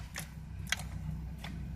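A 2006 Chevrolet Trailblazer SS fails to crank, giving a few sharp, isolated clicks spaced unevenly over a quiet low hum, close but faint, with no engine turning over.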